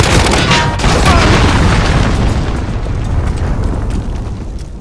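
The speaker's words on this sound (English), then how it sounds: "Allied cruise missile away." A cruise missile explosion in Call of Duty: Modern Warfare, a loud deep boom with a long rumbling roar that slowly fades over several seconds.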